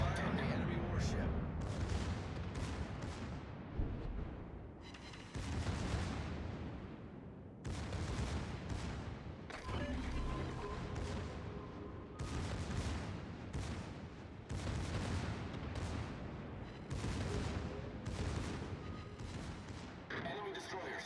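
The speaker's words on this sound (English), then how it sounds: "Enemy battleship firing the enemy warship." Battleship guns firing in World of Warships, a rapid series of heavy booming blasts in bursts, some closely spaced and overlapping, loud and dense across the whole stretch with brief pauses between volleys.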